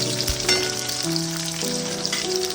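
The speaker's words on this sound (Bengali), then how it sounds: "কেটে রাখা পেঁয়াজগুলো দিয়ে দিচ্ছি" Chopped onions fry in hot oil in a pan for a Bengali danta aloo posto, a steady close crackling sizzle with a faint tone humming underneath.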